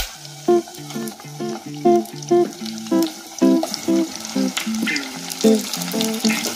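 Marinated chicken, added to chopped onions in a village-style pot, sizzles and fries steadily over a medium flame beneath rhythmic background music.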